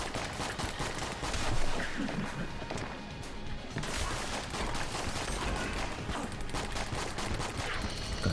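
The Unfinished Gun firing in the Enter the Gungeon video game, a continuous rapid stream of small crackling shots layered with hits and impacts, steady and fairly loud throughout.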